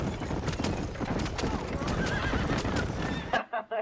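A horse in Red Dead Redemption whinnies and its hooves clip-clop in a busy, close game mix, ending in a sharp cutoff with scattered clatter.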